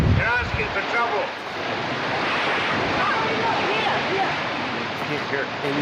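Steady rushing wash of water waves, loud and continuous, with voices talking over it and some wind buffeting.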